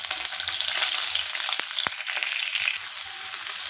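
Onions sizzling in hot oil for a chicken gizzard fry, a steady loud frying hiss with a few sharp crackles and stirring scrapes, close up and with no talking.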